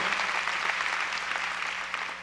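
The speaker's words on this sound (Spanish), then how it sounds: "Denle un aplauso al Señor." A church congregation claps together in a steady, moderately loud round of applause that fills the room and tapers slightly toward the end.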